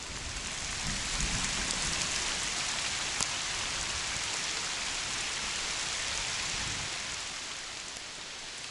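Steady rain pours during a thunderstorm beside a river in a forest near a village, a dense even hiss that swells slightly early, then fades a little toward the end.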